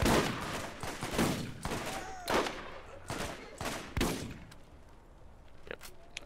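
Gunfire in the Borderlands video game, a series of sharp shots in irregular bursts, dense at first and thinning out toward the end, moderately loud with faint background sound.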